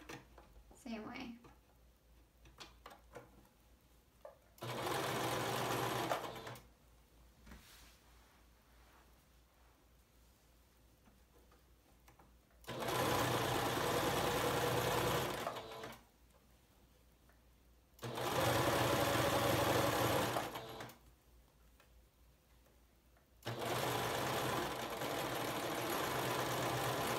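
A sewing machine runs a basting stitch on a pullover garment in four long, steady bursts of a few seconds each, separated by quiet pauses with faint handling sounds and soft talk.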